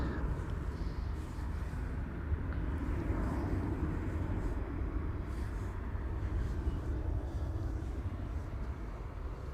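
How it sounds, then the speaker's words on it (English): Continuous low, heavy roar of KLM Boeing 737 jets departing Amsterdam Schiphol, a dense steady rumble holding at even loudness throughout, no voices. "More KLM 737s."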